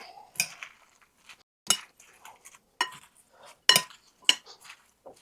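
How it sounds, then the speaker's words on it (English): Utensils clink and scrape against a bowl while mayo-free cabbage coleslaw is tossed, in scattered bursts of clatter separated by brief pauses, close and fairly clear. "just continue to mix"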